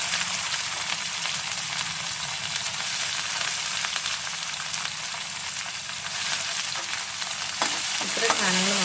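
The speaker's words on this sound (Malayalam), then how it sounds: "ഇത്രയും സാധനങ്ങൾ നമുക്ക് നന്നായിട്ട് വഴറ്റിയെടുക്കാം" Garlic, ginger, green chili and onion sizzle steadily in hot oil for a North Indian dal curry, a dense continuous frying hiss with occasional stirring clinks near the end.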